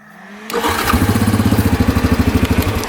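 A rebuilt ATV engine fires up instantly after a brief silence, then settles into a loud, rhythmic pulsing run close by, with no voices.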